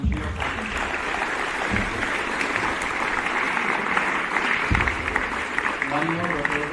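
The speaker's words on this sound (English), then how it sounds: "A big round of applause and cheers for them." An audience at an academy event cheers and applauds in a continuous, dense wash of clapping, with voices and speech audible underneath throughout.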